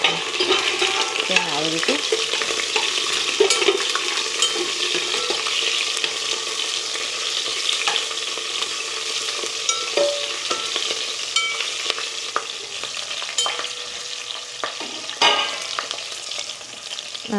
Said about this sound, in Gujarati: આપણે નાખીશું ફર્સ્ટ લીલા મરચાં જે ફ્રાય કરવાના છે.